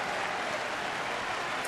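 Baseball stadium crowd at a Dodgers–Brewers game in Milwaukee cheering and clapping in a steady, loud roar, dense and diffuse, with a faint voice beneath.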